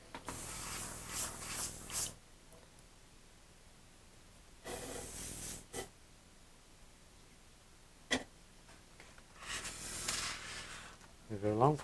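Airbrush spraying weathering paint onto a foam RC warbird model, a Dynam Hawker, in a few short hissing bursts separated by quiet gaps, close but fairly soft, with small handling clicks near the end.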